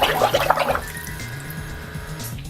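An airbrush sprays cleaner out underwater, a bubbling, gurgling burst of liquid that churns loudly for under a second, then settles into a quieter watery hiss.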